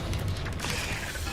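In Hogwarts Legacy, the Bombarda explosion spell lands with a short burst of rumbling, clattering debris and mechanical rattling, loud and close, lasting just over a second with no voices.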